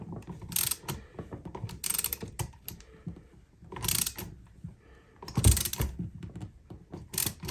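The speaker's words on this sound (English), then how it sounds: "now we'll just tighten the screw up" A screwdriver tightening the screw on a household light switch, a close series of ratcheting clicks in repeated bursts with short pauses between turns, no talking.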